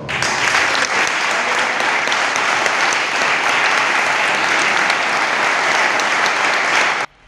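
A long, loud round of applause fills the hall at the presentation ceremony for the new captain of the Mestranza, dense sustained clapping from many hands that holds steady for about seven seconds before cutting off sharply.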